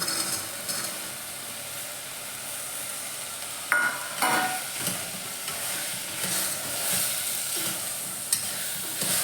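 Rajma kidney beans being stirred into a sizzling masala in a pan, with a steady fry hiss and a few scraping stirs and clinks, moderately close with no talk.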